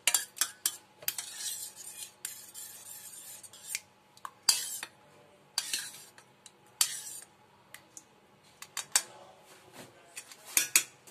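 A spoon scraping tomato paste into a pot, heard as a run of sharp metallic clinks and scrapes in irregular bursts with quiet gaps between them, close by and with no talking.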